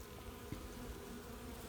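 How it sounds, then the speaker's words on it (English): Honey bees hum faintly and steadily on a couple of exposed frames in a neglected hive opened in December, a low, even buzz with no talk. "so we got a couple frames of bees here"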